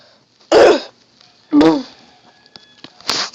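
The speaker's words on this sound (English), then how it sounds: "Damn, coughing." Two loud, close coughs about a second apart, followed by a few faint clicks and a shorter throat-clearing burst at the end.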